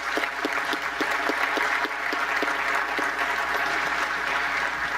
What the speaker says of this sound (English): I think we need to give a round of applause for this